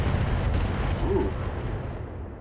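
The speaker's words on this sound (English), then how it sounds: "Took a hard hit there. oh, rockets. Lots of rockets." Rockets slam into a mech in a video game, a dense burst of heavy booming impacts that fades out over a couple of seconds, with no talk.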